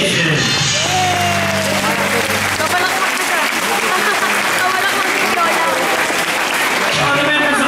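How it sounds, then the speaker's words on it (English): Audience applause at a sea lion show, a dense sustained clapping that runs loud for the whole stretch, with scattered shouts and whoops from the crowd and a brief voice over it at the start. "Have a nice round of applause for that great imitation."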